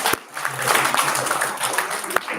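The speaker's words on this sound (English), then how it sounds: "And then clap." An audience at a town hall meeting in Fort Portal claps in a burst of mixed applause lasting a couple of seconds, fairly close and steady.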